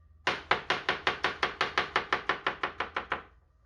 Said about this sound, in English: We're going to slice it like so, and then cut it into little half moons.